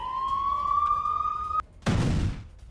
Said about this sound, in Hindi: पूरे उत्तरी इजराइल में इस वक्त सायरन बज रहे हैं।